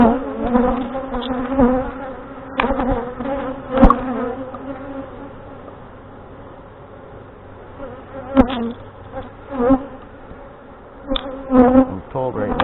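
Honey bees from a Saskatraz-queen hive buzz close by during a fall feeding and inspection in northwest Wisconsin, a steady drone with bees flying past the microphone in louder swells.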